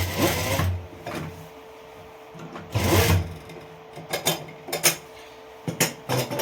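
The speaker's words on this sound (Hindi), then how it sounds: "तो हम इस तरह से इसको इसी पे सिल देना है, स्टिच इस तरह से कर देंगे।" A sewing machine stitches a side pocket onto a pair of trousers, with loud bursts of rapid stitching separated by pauses and short clicks and clacks as the fabric is handled.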